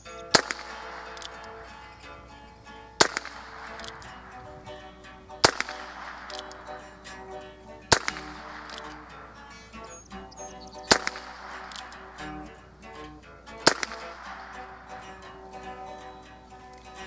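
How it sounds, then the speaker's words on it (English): Shots from a Heritage Rough Rider single-action revolver fired two-handed at a range: six sharp cracks spaced a few seconds apart with ringing tails between, no talk over them. "We're going to be doing two-handed shooting on this one"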